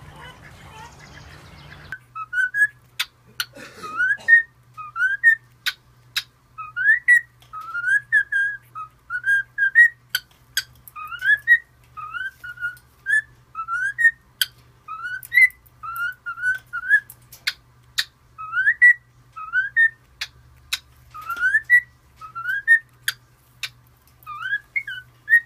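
A pet bird whistling a song, repeated bright rhythmic whistled phrases in quick bursts, close and fairly loud against a low steady hum, with no talking.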